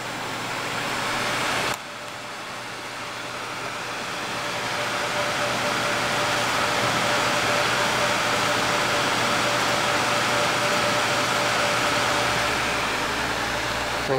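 Fans on a Gainward GTX 580 Phantom graphics card spin up to full speed, a broad steady whooshing hum that cuts in abruptly and swells gradually louder over several seconds, then holds at a constant roar with a faint tonal whine.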